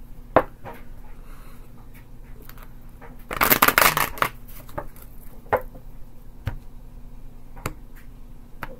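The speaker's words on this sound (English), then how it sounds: "Another good shuffle." Tarot deck riffled once in a short close burst of flapping cards, followed by scattered light taps and clicks of cards being handled in a quiet room.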